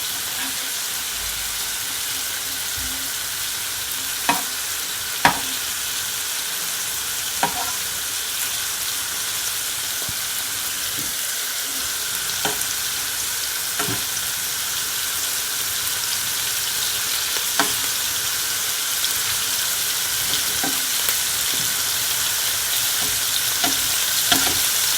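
Shrimp frying in a pan for a home hibachi dinner, a steady loud hiss of sizzling oil throughout with occasional clicks and taps of utensils, close and continuous.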